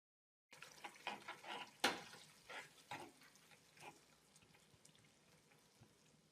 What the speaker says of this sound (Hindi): उसको मिक्स करके आधा कप पानी डाल दें